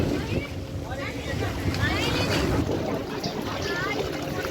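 A boat moves across the deep Maithon Dam reservoir while water slaps against the hull, with constant wind buffeting the microphone and people talking throughout.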